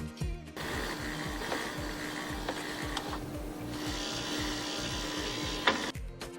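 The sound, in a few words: ice dropping into refrigerator ice storage box, rattling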